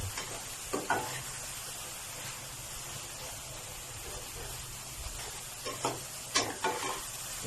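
Vegetarian instant noodles stir-fried in a pan after soy sauce is added, a soft steady sizzle broken by several scraping stirs of the spatula, with faint talk in the background.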